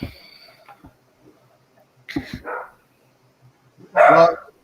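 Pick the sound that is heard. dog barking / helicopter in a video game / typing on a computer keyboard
dog barking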